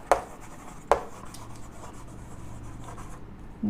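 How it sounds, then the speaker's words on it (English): Pen strokes scratch across paper while words are written by hand, with a couple of sharp taps at the start and quiet rubbing strokes after, close and alone. "Let me write it down for you."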